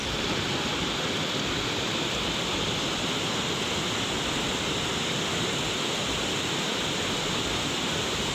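Swift river current of the Batang Anai, a loud continuous broadband roar of rushing water, steady and close with no breaks and no voices.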